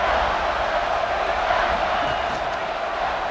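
Crowd noise from a college football video game, a steady roar of cheering fans that holds loud and even throughout.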